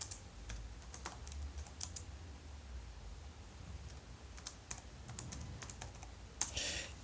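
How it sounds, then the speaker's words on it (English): Fast typing on a computer keyboard, close and fairly quiet, with irregular bursts of key clicks over a low background rumble and no talking. "let me type on the internet"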